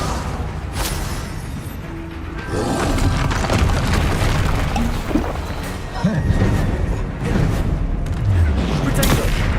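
Combat spells cast in the Hogwarts Legacy video game, a dense run of booming blasts and whooshing impacts layered over one another, with a voice speaking throughout the fight.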